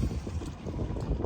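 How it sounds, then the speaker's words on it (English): Strong wind buffets a sailboat tied up at a dock, a loud, rough, continuous roar of gusts hitting the microphone for a brief moment. "it's really windy"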